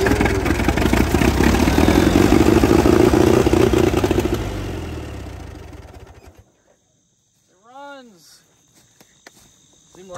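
An old 1945 Allis-Chalmers WD tractor engine roars and revs hard for several seconds, then winds down and cuts out, leaving near silence with a brief whistling sweep.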